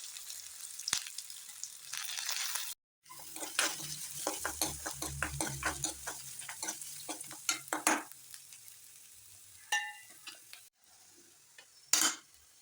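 Sliced onion and green chilies hit hot oil with mustard seeds, urad dal, chana dal and cumin, sizzling softly while a spoon stirs and scrapes the pan in quick, close clinks.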